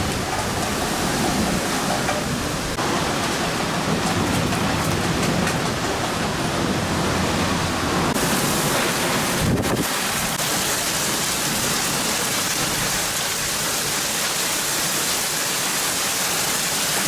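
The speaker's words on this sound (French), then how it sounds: "Donc là on a un gros orage" Heavy thunderstorm rain pours steadily over a garden with gusting wind, a dense continuous roar that stays loud and close throughout, with a brief shift in texture partway through and no voices.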